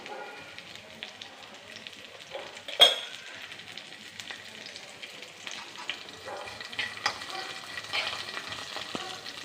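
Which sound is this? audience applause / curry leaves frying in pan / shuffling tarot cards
curry leaves frying in pan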